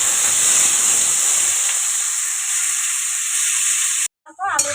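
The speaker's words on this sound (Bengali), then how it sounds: "আলুটা ভাজা ভাজা হয়ে গেছে" Washed potatoes fry in hot oil with bay leaves, dried red chillies and whole cumin, giving a loud, steady hiss and sizzle for about four seconds before it cuts off abruptly into a short muffled sound.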